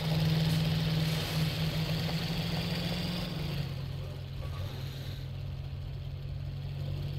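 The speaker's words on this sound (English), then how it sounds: "So we all can hear the King Tiger's engine noise, right?" A King Tiger tank engine in Company of Heroes 2 rumbles and idles steadily with a low droning hum, continuous and moderately loud, fading slightly partway through.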